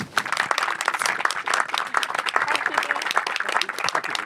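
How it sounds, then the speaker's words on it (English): A conference audience gives panellists a round of applause: loud, dense clapping that fills the room evenly from start to finish. "If you want to join me in a round of applause."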